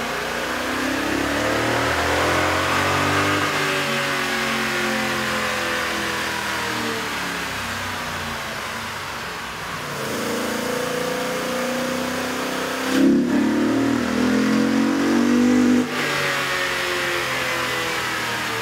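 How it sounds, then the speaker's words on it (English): Toyota Tundra 5.7L V8 fitted with a K&N air intake revving on a dyno, loud sustained engine pulls rising and falling in pitch, with a brief harsher burst near the end, no talk. "With the air intake installed, we ran the vehicle on the dyno to test the sound comparison versus the stock intake."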